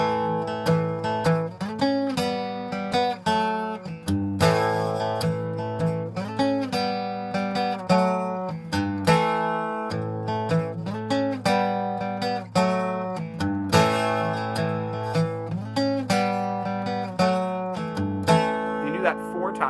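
An acoustic-toned guitar plays the main riff of a song as a steady, repeating strummed and picked pattern, loud and close throughout with no voice over it.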